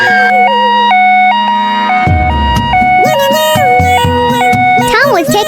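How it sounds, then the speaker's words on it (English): An ambulance siren wails loudly outside a restaurant, its stepped two-tone pattern repeating steadily amid other busy noise. "and the ambulance arrived."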